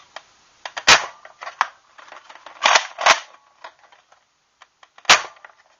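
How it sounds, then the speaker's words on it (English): A Nerf Magnus blaster, stock with its air restrictor in place, is dry fired in a series of sharp, close snapping pops and clicks, a few louder shots among lighter mechanical clacks. "even dry firing this thing, you can hear the power in this thing."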